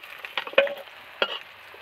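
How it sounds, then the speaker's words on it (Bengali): Fish fry in hot oil, giving a faint sizzle with a few sharp pops and clatters, close and quiet over a brief stretch. "ঠিক এইভাবে আওয়াজ হবে ফেললে, এইরকম করে মাছগুলো ভেজে নেব।"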